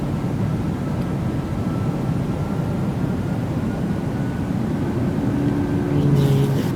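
Steady broadband jet engine roar inside a Boeing cabin climbing after takeoff, a continuous loud drone with a faint tonal hum rising near the end.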